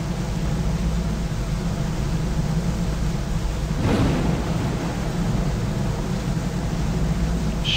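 Storm ambience in the Deadliest Catch video game: a continuous broad roar of heavy rain and wind, with one muffled rumble of thunder swelling briefly near the middle, no voices.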